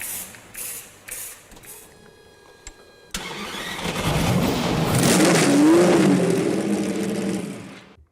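A car engine cranks with a few starter bursts and then catches, rising into a loud, sustained roar with revving, close by, with no voices.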